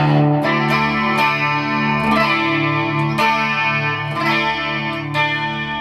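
Electric guitar run through effects with chorus and distortion, strummed in a steady riff of downstrokes and upstrokes that ring out a high E, loud and close with sharp repeated attacks and no talking.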